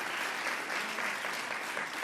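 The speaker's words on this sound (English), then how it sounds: "let's give a round of applause to our" Audience applause fills the room at a public event on Long Island where Governor Kathy Hochul is speaking, a steady, dense clapping held at even loudness for the whole stretch with no voices on top.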